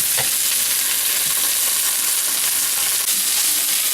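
Leftover baked potatoes fry in oil in a pan, giving a dense, continuous crackling sizzle with a few scraping and flipping knocks, close and loud with no talking.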